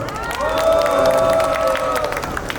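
Crowd applause and cheering at an outdoor construction workers' rally near Suwon Station swell briefly, with a sustained shout or voice tone running over the clapping for about two seconds.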